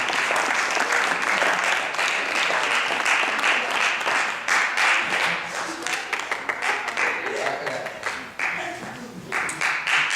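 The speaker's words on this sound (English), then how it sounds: "Y'all can keep clapping." An audience claps loudly and steadily at a teen arts showcase in East Cleveland, dense applause that holds for several seconds before thinning into scattered claps.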